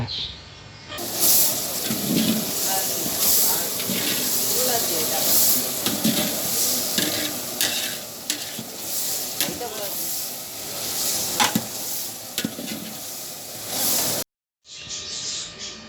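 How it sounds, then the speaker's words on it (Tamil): Homemade ginger garlic paste is stirred into a frying biryani base: loud steady sizzling and hissing with scraping stirs throughout, a faint voice in the background, cutting off abruptly near the end. "வீட்டிலேயே செஞ்ச இஞ்சி பூண்டு பேஸ்ட்டை அதோட கலக்குறாங்க"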